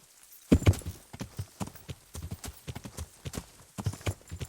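Horses clip-clop steadily through a video game, a run of sharp hoof knocks at an uneven trotting rhythm, close and fairly loud, with faint background tones and no talking over them.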